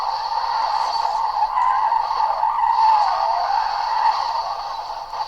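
A 1991 HSV Commodore Group A SV drifts in the Forza Motorsport racing game, its tires skidding in a long, steady squeal that holds for several seconds, loud and close.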